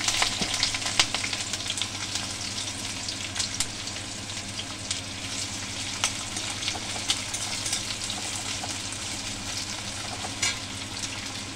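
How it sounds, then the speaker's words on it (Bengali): Chopped onions and green chillies fry steadily in oil for a village-style chela fish curry, a constant, even crackling hiss with faint scattered pops and no talking. "তো সাথে সাথে আমার এখানে কেটে রাখা পেঁয়াজগুলো দিয়ে দেবো"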